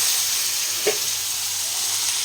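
Black cumin seeds fry in oil with a short, even hiss close by and a single brief pop partway through, and no voices.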